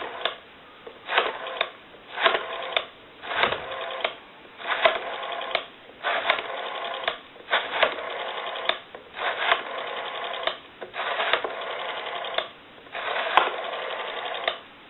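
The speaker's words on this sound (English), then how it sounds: "Now we want to walk through our numbers on the rotary, and you can watch the numbers roll by on the analyzer." Western Electric 302 rotary desk telephone dial being turned and released repeatedly, each spin giving a whirring buzz of pulse clicks followed by a short pause, a steady rhythm of about a dozen close, clear dial runs over a narrowband line.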